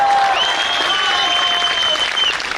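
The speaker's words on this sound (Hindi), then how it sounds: "इस बात पर एक बार जोरदार तालियां बजनी चाहिए।" An audience at a college performance breaks into loud, sustained applause, a dense wash of clapping, with a faint tone heard through it.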